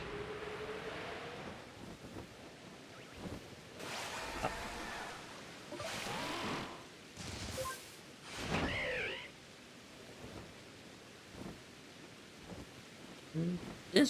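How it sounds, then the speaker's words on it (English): Rain falls steadily in Pokémon Legends Z-A, a soft continuous broadband hiss that runs the whole time, with several louder bursts and other game sounds layered over it. "This rain go away?"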